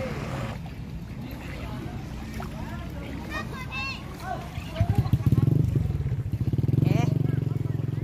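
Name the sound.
motorcycle crossing a flooded road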